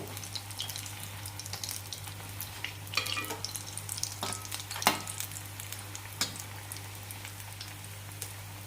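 Potato bondas frying in hot oil, a steady close crackling sizzle with scattered sharper pops and spatters, continuous throughout with no talking.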